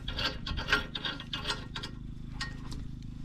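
A wrench tightening the bolt of a ball hitch on a Yamaha YFM250 Moto-4 ATV, with repeated close rasping ratchet-like strokes that fade into a quieter grind.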